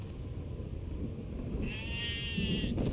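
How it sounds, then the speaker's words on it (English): Zombie sheep from the Stubbs the Zombie video game gives one drawn-out, wavering bleat in its second half, heard over a steady low rumble of game background noise. "He's a zombie sheep."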